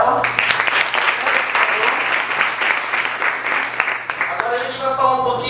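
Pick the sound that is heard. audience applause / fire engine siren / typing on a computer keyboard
audience applause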